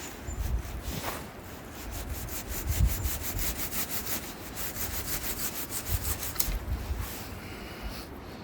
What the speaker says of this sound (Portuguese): E agora posso, com a ajuda da minha serra,